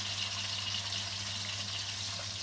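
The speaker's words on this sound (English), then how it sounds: "This is like basically searing any meat, sealing any meat." A stuffed wrapped chicken breast sears in a hot pan with a steady, even sizzle and crackle, no voices over it.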